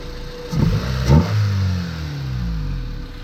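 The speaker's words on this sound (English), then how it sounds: "Love the sound of those cheap eBay intakes." A 1995 Honda Civic EG hatch's D15 engine with a cheap eBay intake revs in two quick blips and then drops back to a low idle, heard up close.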